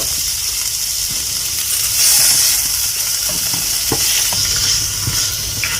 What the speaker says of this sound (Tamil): இது கொஞ்சம் வதங்கினதோட இதில் தக்காளி போட்டுக்கலாம்